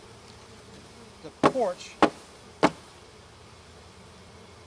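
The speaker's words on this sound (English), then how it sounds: "I'm going to pour the bees out onto the landing board" Honey bees from a package being poured out onto a hive's landing board, a faint buzzing hum behind a few sharp knocks and thumps, with brief speech.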